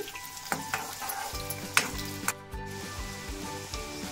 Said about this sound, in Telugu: ఆనియన్స్ బాగా వేగిపోయినాయి కదా